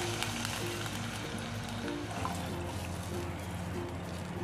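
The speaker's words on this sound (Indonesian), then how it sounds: "Kasih airnya secukupnya ya." Water is poured into a pan of sautéed shallots, garlic and ginger in oil, giving a steady, close hiss and sizzle with a trickling wash that continues throughout.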